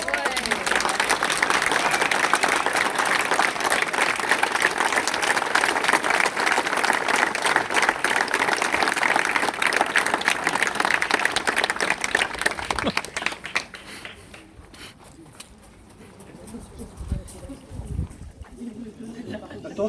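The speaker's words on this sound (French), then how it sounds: "je pense qu'on peut tous les applaudir aussi" A crowd at an outdoor rally organised by a farmers' union in Paimpol applauds loudly and steadily in dense, continuous clapping, which fades out after about thirteen seconds, leaving quieter ambient noise with some voices.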